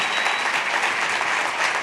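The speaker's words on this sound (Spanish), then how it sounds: "Vamos a darle un fuerte aplauso una vez más en el día de hoy." Loud, dense applause from a large audience fills the space continuously, with no talking.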